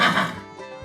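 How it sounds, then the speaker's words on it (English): A horse on a farm gives a single loud, close neigh that starts strong and fades into a softer tail within about a second. "H-O-R-S-E. Horse."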